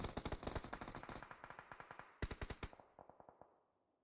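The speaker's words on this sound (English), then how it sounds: "all of that shooting could bring in Team RAYO that is now up there on top of the hill" Rapid automatic gunfire from a video game match rattles in two quick bursts of sharp, evenly spaced shots, then tails off into fainter, echoing pops.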